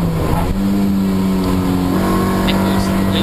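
Toyota MR2 race cars run at speed around the Donington Park circuit, their engines droning loudly and shifting pitch as they pass close, with a commentator talking over them.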